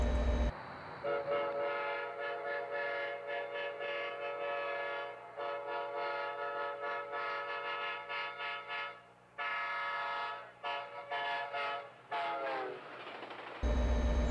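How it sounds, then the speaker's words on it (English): A locomotive horn sounds in Train Sim World, played for an F40PH with a horn that is not the correct one for this model. It gives a loud, sustained, multi-tone chord with several short breaks and re-soundings across the clip. "That horn is very incorrect. F40 PHs have a very distinct horn."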